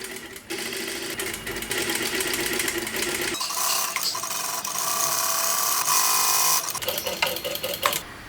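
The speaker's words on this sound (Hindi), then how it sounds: "कॉर्ड जो हमने यहाँ सेट किया है अंदर उससे सट के सिलाई चलाना है" An electric sewing machine runs in rapid bursts while stitching a blouse strip close along corded piping, a fast mechanical whirr that pauses briefly, resumes steadily, then stops with a few clicks.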